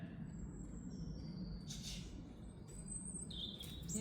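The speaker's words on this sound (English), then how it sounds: "She's a very nosy bird, though." A pet bird chirps softly indoors, giving a few thin, high tweets and short whistles over a low, steady background hum. The calls sound faint and a little distant, with no talking.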